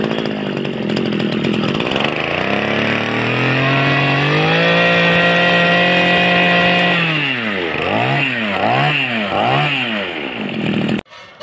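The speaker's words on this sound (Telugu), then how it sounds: "ఇంజిన్ అనేది స్టార్ట్ చేసి చూద్దాం." A repaired 2-stroke power sprayer engine, refitted with a new IE34F bore, crankshaft and piston, runs loud and close. Its pitch climbs steadily, then it is revved sharply several times before cutting off abruptly.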